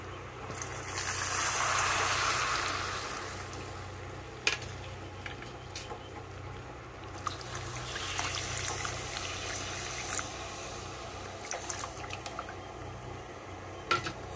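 Ginger juice poured into sugar syrup boiled to a thread consistency for pomegranate syrup, a steady close liquid hiss and bubbling with stirring and occasional clinks of a spoon against the pan, no voices.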